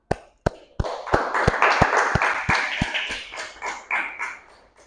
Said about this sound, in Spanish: decimos amén, y le damos un aplauso al Señor